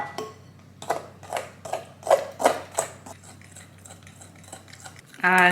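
A spoon scrapes and knocks in a bowl as flour is stirred by hand into batter, with about eight rhythmic clinks close up, then a short burst of other noise at the end.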